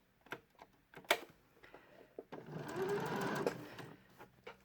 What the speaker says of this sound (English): Just carry the stitching on over the fold.